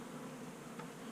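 Honey bees buzz steadily at close range around a frame with honey and pollen, a low continuous drone with no talking.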